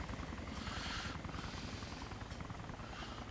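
A video game helicopter's rotor thumps steadily overhead, a rhythmic chopping drone with a whining buzz, moderately loud and continuous.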